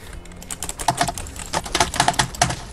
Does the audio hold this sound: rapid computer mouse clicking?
yes